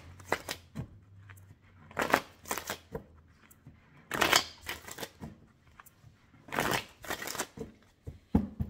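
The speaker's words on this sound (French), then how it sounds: "Je vais effectuer un tirage en pyramide en 7 cartes." A deck of Indigo oracle cards is shuffled by hand in a quiet room for a seven-card pyramid reading, with soft riffling bursts that come in short clusters separated by pauses.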